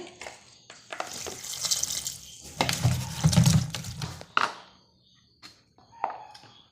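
Tender okra washed under a running kitchen tap, water splashing and gushing unevenly over the pods in a sink, with brief drips and rattles as the flow starts and stops.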